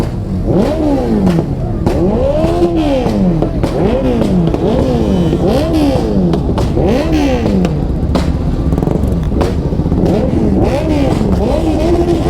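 A 636 cc motorcycle engine revving repeatedly at close range, loud throttle blips rising and falling in a steady rhythm roughly every second, heard over crowd noise with no one speaking.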